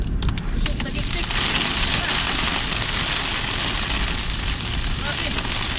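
Heavy rain pours down steadily, a dense close hiss of drops drumming on a surface throughout, loud and unbroken.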